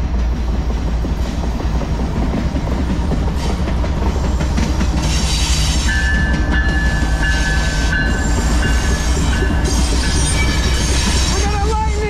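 A CSX freight train, a maintenance-of-way manifest with lightning bolt scheme locomotive, rolls steadily past a crossing at close range, with continuous loud wheel rumble, rhythmic rail clatter and occasional thin wheel squeal.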